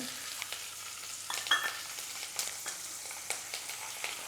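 Green chilies and curry leaves frying in hot oil for rava pongal, a faint quiet sizzle with a few soft clicks and stirring taps.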